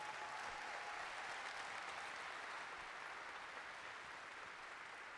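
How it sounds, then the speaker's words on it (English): Steady, dense applause from a large audience, sustained and even throughout with no talk over it. "so give yourselves a huge round of applause"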